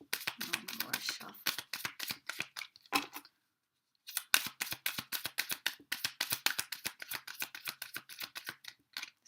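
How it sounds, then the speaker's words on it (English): A deck of tarot cards being shuffled, a quick riffle of crisp, dry flutters and taps that pauses briefly, then resumes in steady bursts at close range. "One more shuffle."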